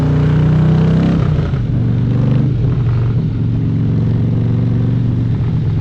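A car engine revs hard and holds a loud, continuous growl, its deep pitch shifting slightly as the throttle climbs, with no voices over it.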